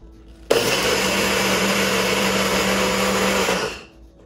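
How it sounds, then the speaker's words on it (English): A blender grinds rolled oats into oat flour, starting abruptly and roaring loud and steady for about three seconds before winding down, with no talking over it. "you're going to grind 1/2 of your rolled oats into your oat flour. So I'm using a blender here."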